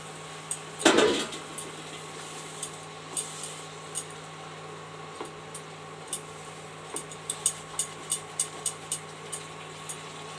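Green peas tipped into a pan of vegetable curry: a short rattling clatter as they land, then a run of light, evenly spaced spoon taps against the pan over a low steady hum.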